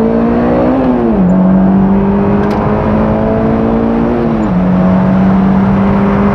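Honda S2000 braking and downshifting into a corner without heel-and-toe: a loud, steady engine drone close by, its pitch dropping twice, with no talking.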